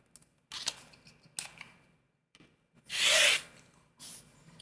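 An Olfa rotary cutter slices through eight layers of thick quilting fabric in a few short scraping strokes, with one longer, louder rolling cut in the middle, close up and with no talk.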